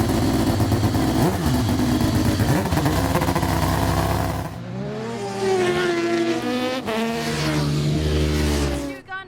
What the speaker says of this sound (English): what we see here is the Norton NRV588. It's the prototype that was built with the National Motorcycle Museum